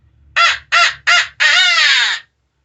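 A Quaker Boy Cracking Crow locator call blown to imitate a crow, giving three short harsh caws followed by one long drawn-out caw, loud and close with no other sounds.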